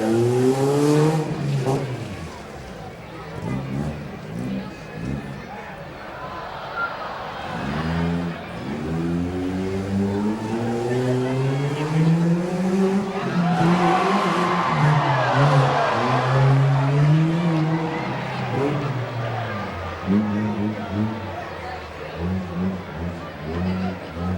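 A heavy truck engine revs hard and climbs in pitch again and again during a rough truck pull, loud and sustained, with a crowd and an announcer's voice underneath.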